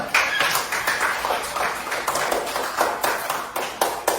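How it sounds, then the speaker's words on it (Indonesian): A group clapping hands together at a church family lesson, a steady run of sharp, fairly loud claps with some rhythmic peaks, continuing for several seconds without talk. "Tepuk tangan dulu."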